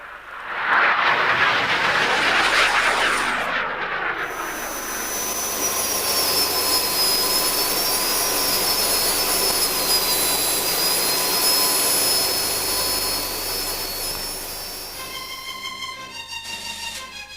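A Gloster Meteor jet fighter's engine roars loudly, a broad rushing blast that settles into a sustained high whine with steady tonal whistles, running continuously and close by.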